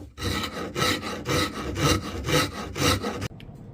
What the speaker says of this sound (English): make sure the rasp doesn't hit that upper side. Just going to kind of round it over a little.